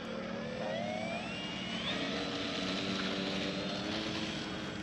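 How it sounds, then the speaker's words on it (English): A brushless RC airplane taking off, its motor producing a steady rising whine with sweeping pitch changes over loud continuous outdoor rumble, close and without talk. "Got an RC airplane taking off."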